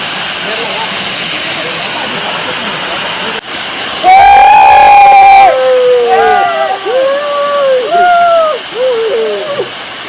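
A mountain stream on Agasthiyar hill rushes steadily through the whole stretch, a broad continuous wash of flowing water, with a voice and high whistle-like tones rising over it in the second half.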